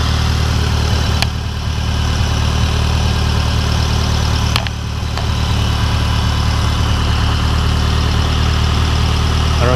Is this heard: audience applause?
no